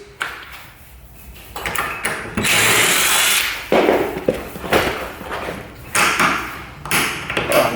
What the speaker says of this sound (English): First thing, remove the old screws.